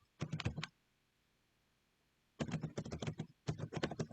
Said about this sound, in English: Spelling, typing too fast.